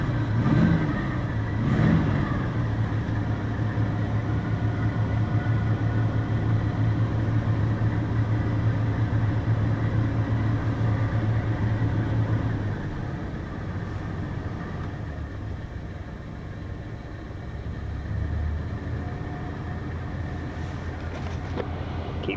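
A 1968 GMC 3500 truck's engine idling after a cold start, a steady close rumble held at a raised idle before dropping to a lower, slightly uneven note partway through.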